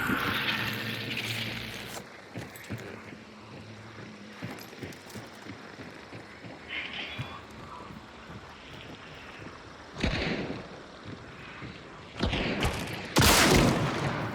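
Gunfire in a Hunt: Showdown match on the Bayou map, with several bursts of shots, the loudest around the tenth, twelfth and thirteenth seconds, over steady wind and water ambience.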